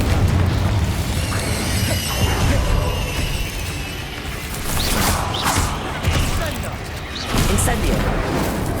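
Spell explosions burst out during a Hogwarts Legacy duel, loud booms and crackling blasts arriving in irregular clusters over a dense game soundtrack, while a voice calls out incantations.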